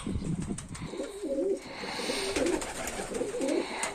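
Pigeons coo in low, throaty bursts inside a dovecote, several overlapping calls repeating steadily at close range with a faint rustling background.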